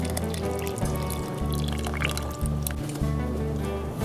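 Thick tomato sauce poured into a pot of Polish Breton beans with diced celery, a close wet glugging pour with squishy drips over a low steady hum, no talk.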